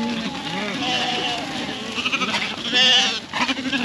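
Sheep bleat repeatedly in the open while being run back across a road to a trailer, with several calls overlapping at close range over a busy mix of outdoor noise.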